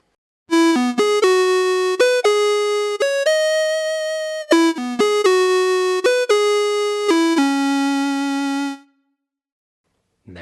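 A bright, buzzy synth tone blending triangle and sawtooth waves plays a stepped melody of sustained notes, loud and steady, alone, before cutting off into silence.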